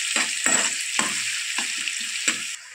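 Finely chopped onion sautéing in a pan for a besan and cabbage dish, a steady bright sizzle with repeated stirring scrapes at irregular intervals, close and alone.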